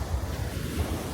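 Atlantic Ocean surf breaking on a beach at Canaveral National Seashore, a steady rushing wash of waves with gusty wind buffeting the microphone, continuous and fairly loud with no voices.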